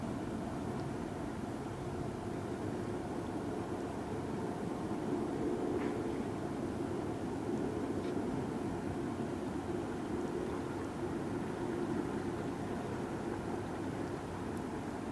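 A distant locomotive engine at the back of an intermodal train rumbles faintly and continuously at East Loon Lake, a low, steady drone heard from far off.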